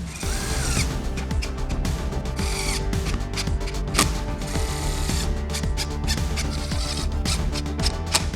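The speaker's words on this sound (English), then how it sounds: "So put these in your impact driver, line it up where you want it, and just send it home." An impact driver sends tech screws home during a car interior job, with loud, steady whirring and rapid rattling impacts close by, running almost continuously with small pauses.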